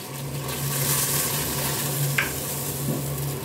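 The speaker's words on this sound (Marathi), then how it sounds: "तुम्ही बघू शकता पाण्याला अशी छान उकळी आलेली आहे." A pot of water for veg noodles bubbles at a rolling boil over a gas flame, giving a steady close hiss and faint gurgle above a low hum, with no talking.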